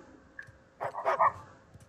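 A dog barks in the video game Uncharted 4: a short burst of two or three close barks after a faint yip, with quiet background otherwise.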